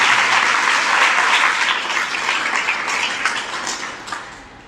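An audience at a Hindi religious sermon breaks into sustained applause, a dense wash of many hands clapping that starts loud and gradually thins out over several seconds.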